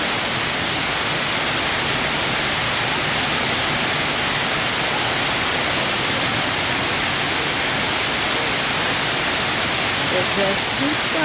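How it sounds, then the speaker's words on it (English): Indoor cascade waterfall at the Opryland Hotel, a steady loud broadband rush of falling water filling the whole clip without pause, with faint background activity. "And here we are at the bottom of the waterfall"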